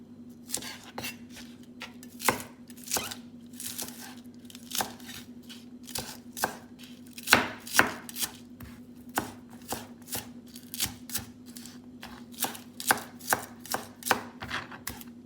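A knife chops lettuce on a cutting board for a Mediterranean chickpea salad, with sharp, close, irregular strokes coming in quick bursts and short pauses over a faint steady hum, no talking.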